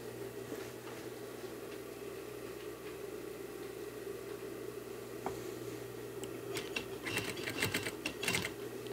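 Sewing machine stitching a sofa seat cushion cover in a reupholstery job, a steady close mechanical whir running throughout with a burst of faster clattering stitches near the end.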